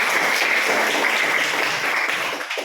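Applause in a classroom, many students clapping together in a loud, even, continuous patter that fades slightly at the end.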